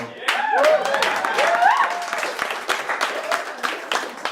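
A stand-up comedy audience breaks into sustained applause with scattered cheers and whoops, loud and steady throughout, while a voice talks over the start of it.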